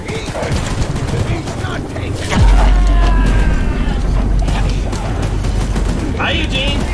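Rapid, dense gunfire from a mounted gun in the video game Choo Choo Charles, loud and continuous for several seconds with heavy booming low end, under excited shouting voices.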